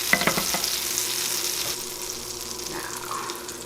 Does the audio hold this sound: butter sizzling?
yes